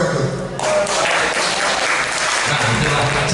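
Loud, dense applause from an audience at a university alumni association chair election, following a candidate's speech and sustained throughout with voices mixed in.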